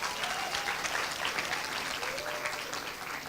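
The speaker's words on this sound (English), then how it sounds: "Can we give a round of applause to Brenda and her team?" An audience at a World Intellectual Property Day celebration claps for Brenda Watson and her team, dense, sustained applause from a crowd that stays fairly even for a few seconds.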